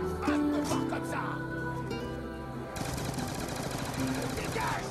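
An AK-74U submachine gun fires in a video game in rapid automatic bursts over a steady background hum, with sustained rattling fire in the second half, under a continuous music-like drone.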